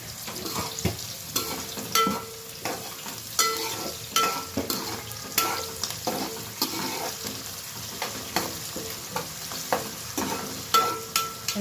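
Green chicken curry with salt frying in a pan: a soft continuous sizzle under repeated rhythmic scraping and clinking of a stirring spoon, moderately quiet and close, with no voices.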